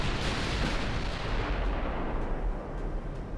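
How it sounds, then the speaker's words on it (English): Huge battleship shells boom in a naval video game, a loud, continuous barrage of heavy artillery fire that rolls on without pause and fades slightly toward the end. "I do like those huge shells flying in."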